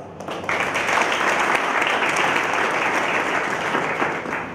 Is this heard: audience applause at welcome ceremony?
yes